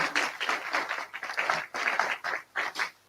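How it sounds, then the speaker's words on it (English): Audience applause for a panel of experts at a grand final discourse event, a steady burst of clapping for about three seconds that fades out near the end, with no talk over it. "let us give a round of applause to our esteemed."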